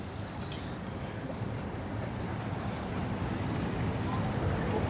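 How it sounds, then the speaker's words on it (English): An old boat's engine drones steadily on open water near Crab Island, wind buffeting the microphone and waves washing beneath a broad, continuous rumble. "That's a cool old boat right there"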